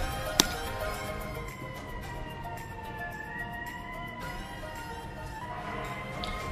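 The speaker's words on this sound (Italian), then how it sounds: "Ambulanza." An ambulance siren wails outdoors in Italy, a steady rising and falling tone at moderate distance that holds for several seconds, with a brief sharp knock near the start and no talking.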